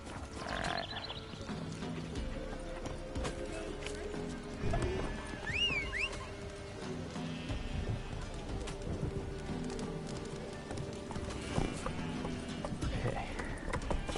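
Roach, the horse in The Witcher 3: Wild Hunt, with steady clip-clop hoofbeats running through the whole stretch, a whinny near the middle, and bird calls and ambient game sound layered underneath.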